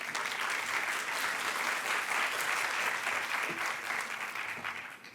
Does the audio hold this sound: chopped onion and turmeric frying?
no